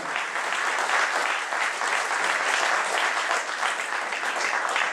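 Sustained applause from a conference audience welcoming the president of the AMEA association, dense and steady clapping throughout with no break.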